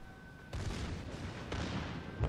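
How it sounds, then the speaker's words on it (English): Warship guns firing in World of Warships, deep booming salvos in bursts, one after another, each rolling into a sustained rumble, loud and close. "at the moment I'm firing at it with 8 guns"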